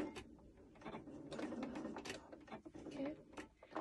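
A sewing machine backstitching a seam on stretchy fabric for a peplum top, a close, steady run of rapid mechanical needle clatter with brief uneven pauses and shifts in pace.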